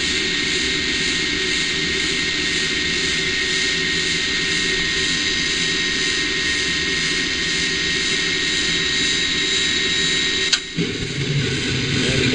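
A home gas furnace burner burning with a loud, steady roar and hum, a sharp click near the end followed by a short dip and a change in the rumble.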